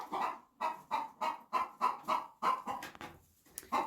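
Broody hens clucking in a barn, a close series of about nine rhythmic, evenly spaced clucks, fairly loud and alone with no talking.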